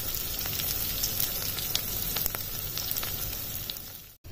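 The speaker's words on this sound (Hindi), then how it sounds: "ये तड़का हमारा फ्राई हो रहा है मस्टर्ड ऑयल में।" Steady, close crackling sizzle of onion tempering frying in hot mustard oil, with scattered pops and no talking, cutting off abruptly at the end.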